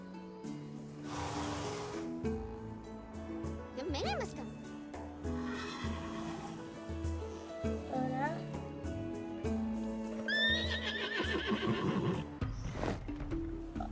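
A horse in a video game neighs and whinnies repeatedly with clip-clop hooves, mixed with game music and a person talking over it.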